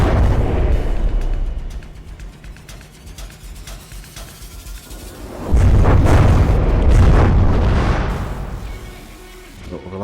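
Particle cannon fire in the naval combat video game From the Depths: loud booming blasts, one at the start and a heavier one midway, then rumbling decay, with battle noise underneath.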